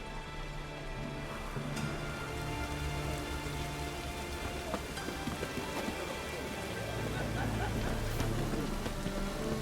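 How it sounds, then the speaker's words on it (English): Steady rain falls throughout in The Witcher 3, a dense, even hiss of drops on surfaces with a low rumble underneath, continuous and moderately loud across the whole stretch. "Must be mad running around in this rain."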